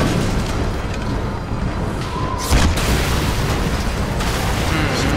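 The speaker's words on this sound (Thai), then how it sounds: "รถระเบิด" In the video game Sniper Elite III, a car explodes with a sudden loud boom and burst midway, set against dense, constant battle noise and gunfire.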